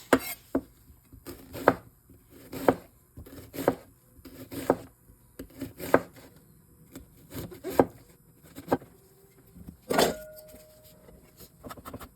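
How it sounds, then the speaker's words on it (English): An onion being chopped on a cutting board, with steady knife thuds about once a second, close and fairly crisp, and no talking over them. "once my onion is chopped up"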